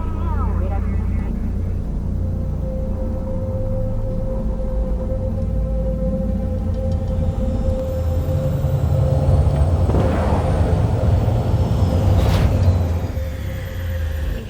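A flying vehicle in the video game Cyberpunk 2077 descends to land, its engine rumbling low and steady with a rising whoosh and hiss near the end, loud and close.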